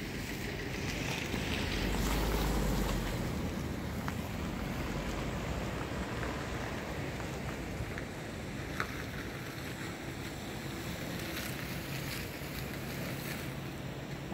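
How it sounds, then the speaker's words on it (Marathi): Jog Falls waterfall pouring down at dusk amid rising mist, a steady broad rushing roar of falling water with wind, continuous and fairly distant, no voices. "धुकं जात आहे वर, आणि हा धबधबा पडत आहे।"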